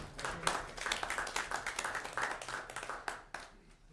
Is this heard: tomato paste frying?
no